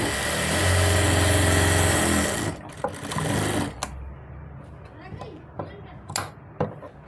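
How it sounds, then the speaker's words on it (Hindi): An electric sewing machine stitches the edge of readymade palazzo fabric with a loud, steady whirring run for about two seconds, then stops, leaving soft cloth handling and faint clicks. "ऐसे किनारे की सिलाई लगा लेंगे एक।"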